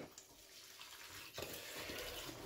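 Cold water runs from a kitchen tap over vegetables in a sink, a steady faint hiss and splash that grows fuller and louder partway through as the flow strikes the veg.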